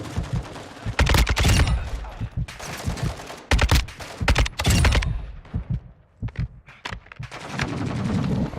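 Loud bursts of automatic gunfire in Warzone 2 DMZ, rapid volleys and scattered single shots with short gaps, close and intense, ending in a steadier rumble.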